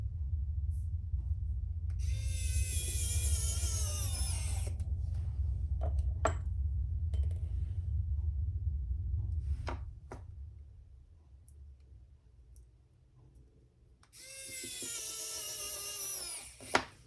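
A small power driver whirs in two short, high-pitched bursts while driving tiny screws into a leather Barbie wallet, with a low rumble, scattered faint clicks and a quiet pause between the bursts.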